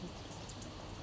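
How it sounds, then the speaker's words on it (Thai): Rain falls steadily as a faint, even hiss of drops on surfaces, continuous through a brief moment, heard outdoors with no other distinct sounds. "ฝนกำลังตก ฝนกำลังตก"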